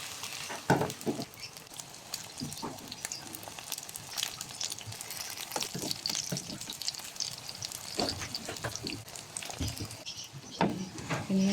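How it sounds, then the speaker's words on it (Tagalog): Eggplant fries in hot oil with an uneven sizzle, crackling bursts and pops scattered throughout over a low hiss. "Prito natin yung mga talong. Start na tayong magprito."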